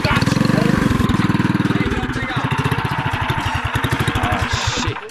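Small engine on a homemade go-kart built from a cooler revs hard and close, its rapid pulsing chug rising and falling as the throttle is worked, with brief speech over it.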